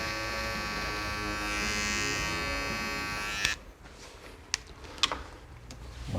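Electric hair clippers taper the sideburns during a low fade haircut. A steady close-up buzz runs for a few seconds, then cuts off, leaving a few small clicks and taps.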